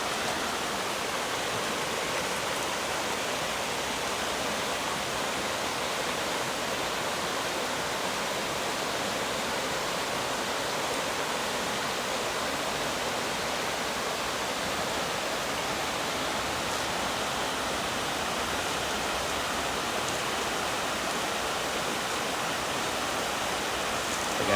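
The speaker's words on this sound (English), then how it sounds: "You definitely get that waterfall white noise at night through here." Small waterfalls at a wooded campground in Cosby, Tennessee, make a steady, even rush of white-noise-like water, close and constant throughout with no other sounds.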